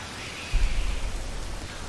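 Steady rain hisses in the Rain video game, a soft, even wash of falling drops with a low rumble swelling partway through, faint and continuous with no voices.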